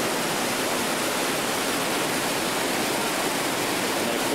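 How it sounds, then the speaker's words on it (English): A stream flowing over a rocky edge as a waterfall, a dense, even wash of rushing water that holds steady throughout with no voices. "this stream flows down and goes over the edge right over there"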